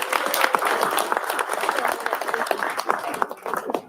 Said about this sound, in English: Can we please give her a round of